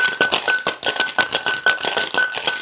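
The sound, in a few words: shaking a Bramble cocktail in a cocktail shaker tin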